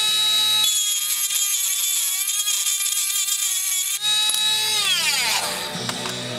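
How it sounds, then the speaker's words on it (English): A Dremel rotary tool cuts into the die-cast metal chassis of a toy car, giving a high, tonal whine that holds steady and then sags and wavers in pitch as the bit loads up near the end, with no speech. "this chassis is die cast, and it's a little harder to cut. So we'll use our Dremel."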